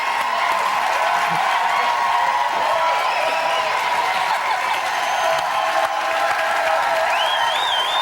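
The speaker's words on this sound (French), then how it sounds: "Mesdames et messieurs, on applaudit nos 3 improvisateurs." A studio audience at a French-language improv comedy show claps for three improvisers, a dense, sustained wash of applause at a steady level, with a voice faintly audible over it.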